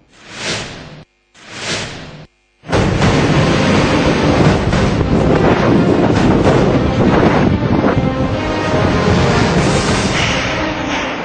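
Cyclone Hudhud's strong winds, moving at about 180 km/h, roar loud and steady as a dense rushing blast that buffets the microphone, preceded by two short gusts with gaps of near silence.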